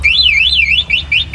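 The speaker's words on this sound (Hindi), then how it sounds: "रिवर्स फ्रंट ये बजर के साथ आपको ऑपरेट होता है," A Sah Yatri e-rickshaw's reverse buzzer warbles loudly and up close, a wavering electronic alarm tone that sweeps up and down repeatedly over a low motor hum.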